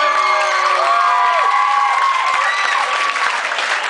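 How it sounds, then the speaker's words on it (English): A live comedy show crowd gives a big round of applause with cheering and whoops for earlier acts, a loud sustained wash of clapping with shouted voices and whistle-like calls riding above it. "can you get a big round of applause for all the previous acts?"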